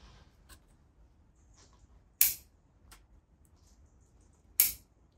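Bonsai scissors snip branches on a young starter tree: two crisp, sharp clicks a couple of seconds apart, close and clear over a quiet background with a few faint ticks.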